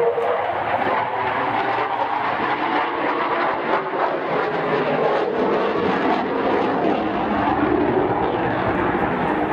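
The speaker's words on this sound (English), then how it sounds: "And now into a very uncomfortable outside negative G turn." A military jet flies an outside negative G turn at an East Fortune airshow, giving a loud, continuous roar that holds steady and close for the whole stretch.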